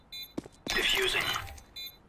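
A bomb is defused in a tactical shooter video game. Short high beeps open and close the moment, framing a loud, noisy electronic burst of roughly one second, and a voice is heard alongside.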